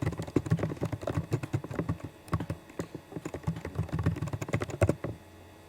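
Rapid bursts of computer-keyboard key presses as a password is typed, close and fairly quiet, coming in uneven clusters with short pauses before the clicks stop near the end.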